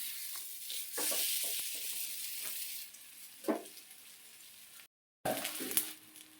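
Ragi roti sizzles in oil on a pan, a steady close frying hiss with occasional stirring scrapes and a brief drop to silence before the sizzle resumes.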